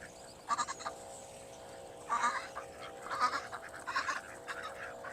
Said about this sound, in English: Say good morning to all the ducks.